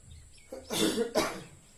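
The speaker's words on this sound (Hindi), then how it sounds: "भाई खांसी आ रही है" Two harsh coughs in quick succession, close and fairly loud, with no talking around them.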